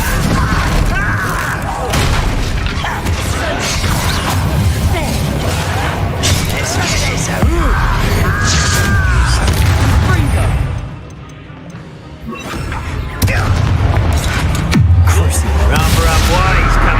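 Bombarda spell blasts in Hogwarts Legacy fight goblins, with booming explosions and crashing bursts among game effects, dialogue and talking, briefly dipping quieter before the noise returns.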